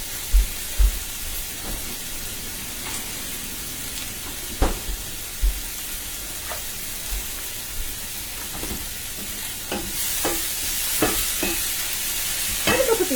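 Leek fries in a pan before asparagus is added, giving a constant low sizzle with intermittent scraping stirs and clinks throughout, and the sizzle grows brighter and louder toward the end.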